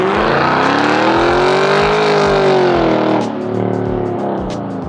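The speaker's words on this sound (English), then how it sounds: "I really wanted to hear that V8" A Lexus LS460 V8 with deleted exhaust parts revs loudly up and back down, a deep rumbling engine note rising in pitch, then settling to a lower idle-like drone, close by and with no voices.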